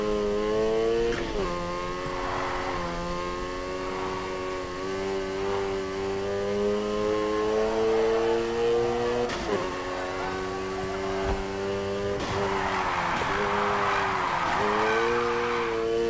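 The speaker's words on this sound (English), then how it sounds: "Now try and hold those drifts" A video-game car drifts through corners, its engine droning and shifting pitch as it revs, with bursts of tire squeal and skidding rising over the steady motor.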